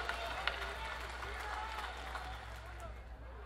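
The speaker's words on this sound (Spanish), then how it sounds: "Vamos a darle un aplauso en vez de un minuto de silencio." A salsa concert audience at the 2016 Aniversario de la Salsa applauds in tribute, a faint, steady patter of clapping and crowd murmur heard from a distance with low hum underneath.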